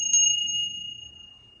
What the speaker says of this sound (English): So we'll ring the Ganesh bell.